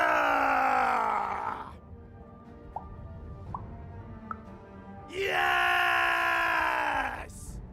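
Characters in the video game Lost in Random screaming battle cries: two long, loud, strained group screams separated by a quieter stretch with a few short pops and clicks.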